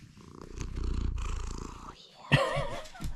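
A cat held in someone's arms purrs in a steady low rumble, close up, with a voice talking over it and a brief louder sound near the end.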